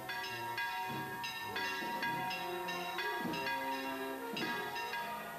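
Several church bells swing and peal in an overlapping, continuous clamor, ringing out steadily with layered tones, as a procession passes the church of the Justinian Sisters in Agullent, Spain.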